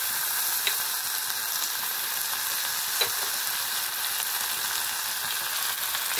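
Vegetables frying in a pan with turmeric, ground cumin and ginger, a steady close hiss and sizzle with a couple of faint utensil clicks as they are stirred, no voices.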